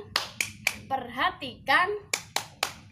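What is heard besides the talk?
rhythmic 'tepuk fokus' hand-clapping routine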